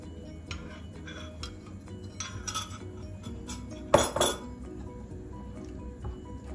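Eggs are mixed into a salmon and leek tart filling in a bowl, giving light clinks and taps of a utensil against the bowl, with one sharper clink midway and no talking.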